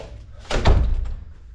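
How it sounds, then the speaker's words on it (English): A closet door in a living room under renovation swings shut with a single solid thunk, close by and fairly loud, followed by a short fading rumble. "I got both these doors for here closing good."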